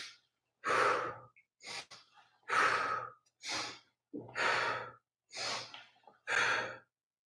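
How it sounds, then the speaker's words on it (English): Slow, deliberate breaths drawn in and pushed out through the mouth: about seven soft, airy exhales and inhales in a steady rhythm, close and quiet, with brief silences between them and no talking. "Now I'm breathing through my mouth so you can hear me, hopefully hear the sound"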